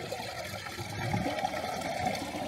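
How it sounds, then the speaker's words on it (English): Water pumped through a hose into an RV black tank, a steady, fairly quiet rushing and trickling wash that continues unbroken throughout with no talking. "this is what it looks like in the tank as the water is being pumped in"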